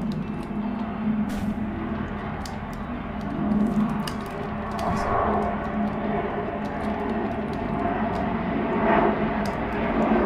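Aircraft drone steadily overhead in the Garten of Banban 3 horror game, a continuous low engine rumble that swells and fades slightly, with scattered clicks and bumps on top.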